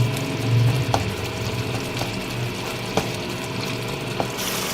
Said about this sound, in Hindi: अब इसको हम यहाँ थोड़ा सा मैश करके, और हम इसको तेज़ आंच पे भूनेंगे।